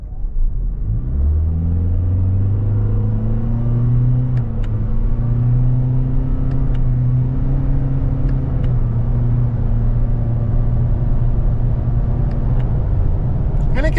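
A 2024 Toyota Corolla Cross Hybrid with a new engine revs up and accelerates, its pitch climbing and holding steady through short-shifted gear changes, loud and close with faint clicks.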